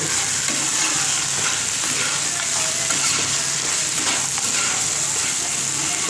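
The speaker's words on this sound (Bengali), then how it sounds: "এবার এই বড়িগুলোও কিন্তু দিয়ে দেবো" Bori lentil dumplings frying in a pan with a chilli spice mix, a dense continuous sizzle with faint stirring scrapes, steady and close throughout.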